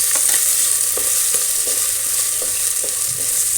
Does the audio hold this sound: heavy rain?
no